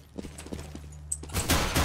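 Gunfire in Counter-Strike: Global Offensive, a few quick light shots over a low hum, followed by a loud dense burst of rapid fire at the end.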